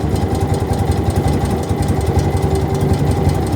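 BMW R75/6 motorcycle engine with Bing carburetors idling during carburetor synchronization, a steady, close, loud lumpy idle with a rhythmic uneven knocking pulse that runs continuously.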